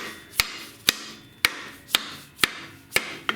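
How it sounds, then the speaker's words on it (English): Steady taps with a hammer handle on a BMW R1200GS motorcycle swing arm, about seven evenly spaced sharp knocks on metal, close and crisp with no voices. "Now let's try the hammer handle again"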